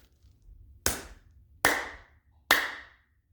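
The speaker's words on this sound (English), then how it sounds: "Next pose, clapping." Three sharp, separate hand claps during a yoga breathing-and-movement routine, spaced about a second apart, each with a quick decaying ring in a quiet room.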